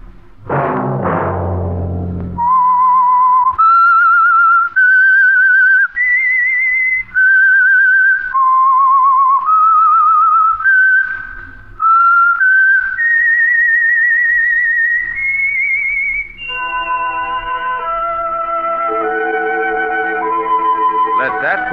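Signature whistled theme of the radio drama The Whistler: after a short low orchestral sting, a lone clear whistle carries a slow, eerie melody of held and sliding notes, joined near the end by fuller music underneath.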